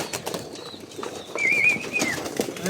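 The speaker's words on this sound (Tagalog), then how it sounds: "Ay si Red Red, ang ibon natin" A pigeon at a fancier's loft gives a faint coo, with soft wing flaps and light rustling around it at moderate distance.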